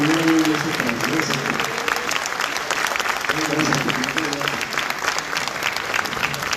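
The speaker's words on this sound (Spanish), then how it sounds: "Un aplauso a mi querido Héctor, que siempre está pendiente." Audience applause for Héctor at a Grupo CISA anniversary gathering, a dense steady clapping from a crowd that carries on throughout, with voices talking over it at the start and again partway through.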